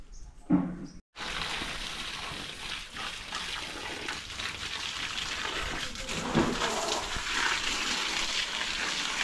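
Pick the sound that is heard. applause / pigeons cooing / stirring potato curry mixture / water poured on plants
water poured on plants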